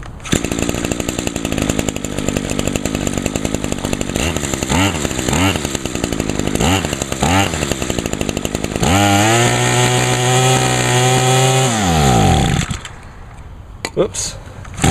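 A small 2-cycle engine treated with Seafoam runs loud and close with a steady buzzing drone, revving in short bursts, then winding up to a high sustained rev before cutting out near the end.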